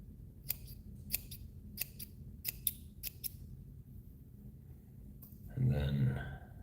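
Scissors trim synthetic hair for a bass fly-tying pattern, giving about eight crisp, close snips in a loose rhythm, followed by a short muffled low rustle as the material is handled.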